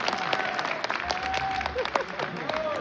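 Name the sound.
audience applause, weak clapping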